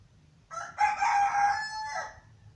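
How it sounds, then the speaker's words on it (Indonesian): A single rooster crows once, a clear, strained cock-a-doodle-doo about a second and a half long, fairly close, standing alone over a faint background hum, somewhere in Ambon in eastern Indonesia. "ini suara ayam"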